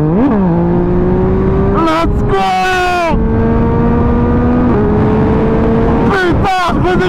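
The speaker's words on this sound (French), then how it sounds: "Putain, je redécouvre une moto." A motorcycle engine revs while being ridden, its droning tone climbing and dropping through several shifts, loud and close, with a man's excited exclamations over it.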